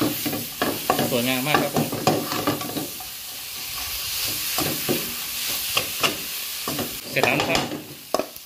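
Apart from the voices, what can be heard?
stir-frying pad thai with dried shrimp in a pan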